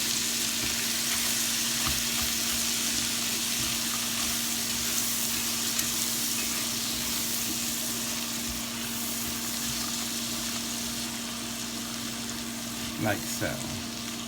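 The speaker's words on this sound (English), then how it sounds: "we're going to saute our corn in that bacon fat" Frozen corn sautéing in bacon fat, an even, unbroken hiss of frying held steady throughout over a low electrical hum, with a brief spoken remark and a small clunk near the end.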